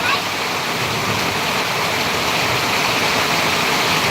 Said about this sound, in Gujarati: સુરત ડિંડોલીમાં વરસાદ જબરજસ્ત ચાલુ રહ્યો છે